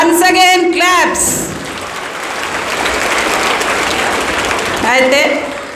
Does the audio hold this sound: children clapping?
yes